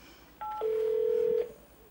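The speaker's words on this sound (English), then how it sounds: "So I press and call the in-house extension." A desk telephone dials an in-house extension: two short DTMF keypad tones, then a longer steady tone lasting just under a second, heard close and clear with no talking.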